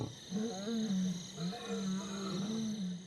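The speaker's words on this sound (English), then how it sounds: "we hear roars in the distance, and Vumbi perks up, and then they roar back" Lions roar in the distance on the Serengeti, a series of deep, drawn-out moaning calls rising and falling over steady ambient hum.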